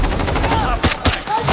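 Rapid video-game gunfire from a gun, dense bursts of shots loud and close, filling the whole short stretch with a couple of heavier blasts near the middle.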